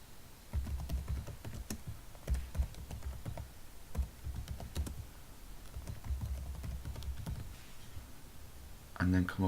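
Keys clatter on a computer keyboard in quick irregular bursts separated by short pauses, close and fairly loud, with a brief louder patch of speech near the end.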